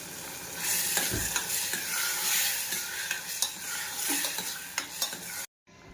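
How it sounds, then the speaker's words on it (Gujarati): Green chickpeas are stirred into a sizzling onion-tomato gravy with curry leaves, a spoon scraping and clicking against the pan over a continuous frying hiss, ending in abrupt silence. "હવે હલાવીને આપણે બધો મસાલો કરી નાખીશું"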